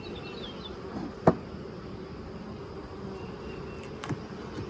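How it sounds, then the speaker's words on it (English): Steady low buzzing of many honey bees close by at a hive, a continuous drone with a couple of sharp clicks. "Watch the bees. Watch the bees."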